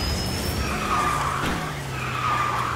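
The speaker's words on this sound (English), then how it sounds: "Do a little tap of the drift." A Porsche 911 Turbo S Cabriolet drifting in the KartRider Drift racing video game, a short squealing tire skid over a steady engine hum, with brief rising whines recurring across the few seconds.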